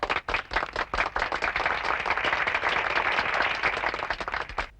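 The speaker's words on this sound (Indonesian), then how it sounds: "Tepuk tangan." Birthday applause from a small group in a 1982 Indonesian film scene, dense steady clapping that runs throughout at moderate loudness with no talk over it.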